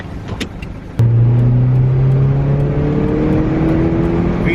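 A 10-speed EcoBoost vehicle bursts into loud, close acceleration, its engine note climbing steadily in pitch after a sudden onset, sustained and unbroken to the end.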